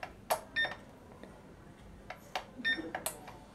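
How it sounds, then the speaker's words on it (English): An APC Back-UPS 600VA (BX600C-IN) uninterruptible power supply beeps as it powers on. Short, faint electronic tones come in a few separate bursts among soft clicks and handling noise. "So let me turn this on."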